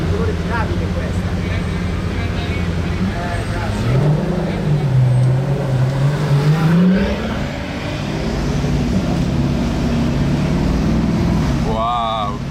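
A Pagani Utopia supercar drives past on a street in Monaco, its engine rising and falling as it approaches and pulls away, loud and close amid traffic noise with people talking nearby.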